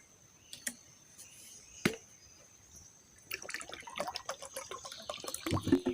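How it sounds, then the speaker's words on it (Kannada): Water is poured into a mixer jar holding jaggery while mosambi juice is made. Light drips and taps come first, then a denser, continuous splashing trickle fills the second half. "ನೋಡಿ, ಈಗ ನಾನು ಮಿಕ್ಸಿ ಜಾರಿಗೆ ಒಂದು 1/4 ಗ್ಲಾಸ್ನಷ್ಟು ನೀರು ಸೇರಿಸಿಕೊಳ್ತಾ ಇದ್ದೇನೆ."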